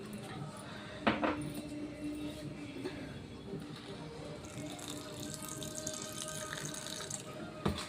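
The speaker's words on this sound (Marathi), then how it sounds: "आता यामध्ये आपल्याला पाणी टाकायचं थोडं।" Water is poured into a bowl of grated raw potato pakora batter with baking soda, a splashing trickle with a few sharp knocks, and a faint rumble of background noise.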